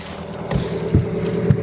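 A 40ft sailing boat's engine runs steadily through its exhaust silencer, a low throbbing drone with a few soft thumps of water and wind buffeting the microphone outdoors.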